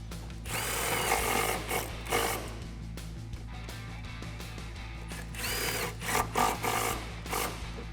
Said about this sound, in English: Grab your 16 socket and tighten those down.